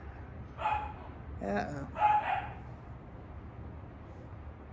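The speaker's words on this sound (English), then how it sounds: "the dog next door must be out" A neighbor's dog named Haku barks several times at a distance, a few yips spread over a couple of seconds, with a brief word spoken nearby.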